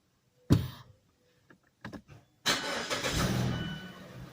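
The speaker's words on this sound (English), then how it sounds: "Just step on the brake, push the button, and start the car" A car starts with a push button: a sharp thump and a few short clicks, then the engine cranks and catches into a loud, steady run close by.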